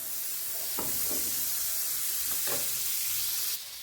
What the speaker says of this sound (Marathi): ह्या बटरमध्ये आपण खडे मसाले भाजून घेत आहोत।